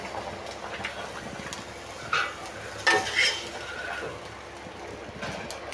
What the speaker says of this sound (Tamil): சீரகம் தாளித்து அதில் கொட்டிடலாம்.